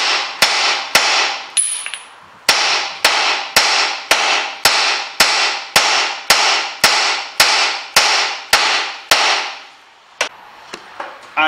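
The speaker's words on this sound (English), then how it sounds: "So the easiest way to disconnect the track rod end from the hub is get a hammer." A hammer strikes a Renault Master track rod end repeatedly in an even, sharp rhythm, over a dozen loud metallic blows close by, each with a short ringing decay, before a pause and a final knock.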